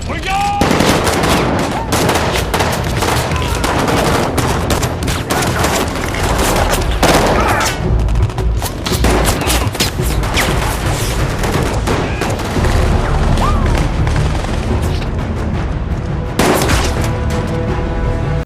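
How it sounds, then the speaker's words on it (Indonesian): Loud, sustained gunfire with rapid automatic bursts and sharp individual shots overlapping continuously, punctuated by heavier booms. "kemudian adu tembakan pun terjadi"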